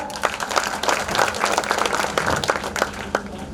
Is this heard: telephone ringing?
no